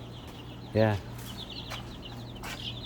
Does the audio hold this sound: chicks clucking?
yes